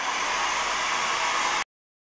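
A hair dryer blows steadily on a handmade craft piece, a loud continuous whooshing hiss that runs for over a second and a half and then cuts off abruptly into silence.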